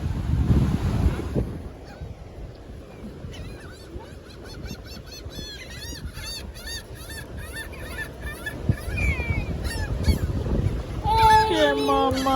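Gulls call over a windy beach with surf rumbling below, a string of sharp repeated cries building from sparse to busy, a few nearer squawks near the end; a voice briefly at the start.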